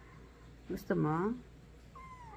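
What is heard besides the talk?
kitten meowing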